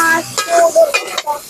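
Pointed gourd stirred into spiced oil in a hot pan, a few scraping stirs over a soft, close sizzle, brief and fairly loud.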